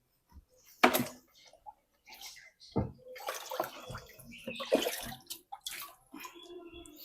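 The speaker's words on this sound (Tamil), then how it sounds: "இந்த பக்கெட் வந்து டேங்க்குள்ளே போகிற மாதிரி இருக்குது. அதனால இதை வச்சு நம்ம தண்ணியை மோந்துருவோம்." A bucket scoops water out of a home fish tank in a run of sloshing, splashing pours and drips, close and moderately loud, with quiet pauses between scoops.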